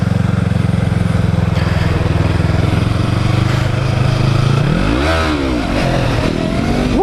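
A motorcycle engine, loud and close, holds a steady buzzing idle as the rider practises wheelies in a parking lot, then revs sharply up and down before settling back into a rough drone.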